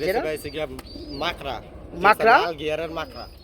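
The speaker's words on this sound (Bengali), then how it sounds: "এটা মূলত কি কবুতর" Pigeons coo softly in the background at a pigeon seller's loft, a low murmuring that sits beneath steady conversation running through the whole stretch.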